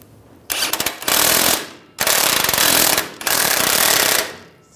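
An impact wrench snugs a nut onto a rear shock bolt of a Ram 1500 pickup, three loud close rattling bursts, the first with stuttering hits, separated by short pauses.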